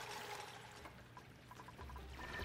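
Game water flowing and pouring down through a colony base in Oxygen Not Included, a steady liquid trickle and splash running throughout at moderate level, with no talking.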